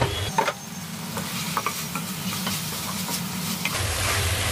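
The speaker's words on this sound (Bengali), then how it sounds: "এগুলোকে এইভাবে আমি তেলে ভেজে নিব" Steady sizzling of food frying in oil, with occasional stirring scrapes and soft clicks throughout.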